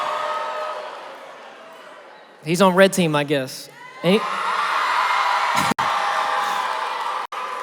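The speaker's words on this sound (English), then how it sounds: "Those people all cheering for you." Conference crowd cheering and whooping loudly in a large hall, a sustained roar that swells and holds under a voice speaking into a microphone, with brief sharp breaks.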